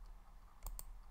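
A couple of quick, faint computer mouse clicks in a quiet room, sharp and close, with a softer tick near the end.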